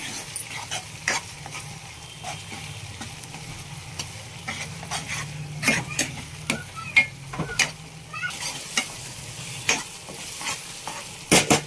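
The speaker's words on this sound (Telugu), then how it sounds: "అల్లం పేస్ట్ వేసుకోవాలి. వేసేసుకుని కలిపేసుకోవాలి" Ginger paste sizzles in oil in a pan for chicken curry while a spoon stirs it with repeated sharp scrapes and taps over a steady fry, close up, with a dog whimpering faintly in the background.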